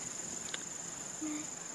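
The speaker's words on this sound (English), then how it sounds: "Cicada update." Cicadas in a southern forest campground in Bienville National Forest give a faint, steady high-pitched drone throughout, with a couple of soft ticks and brief rustles nearby and no talking.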